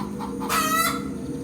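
A chicken gives a short, nearby cluck and then a brief crowing call against a steady background hum.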